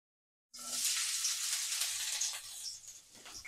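Chopped onion hits hot oil with a sudden loud sizzle after a moment of silence, then a bright steady frying hiss that eases slightly toward the end.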